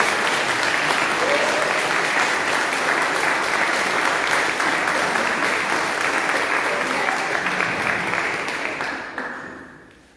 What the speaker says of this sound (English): we have a massive round of applause for Sharon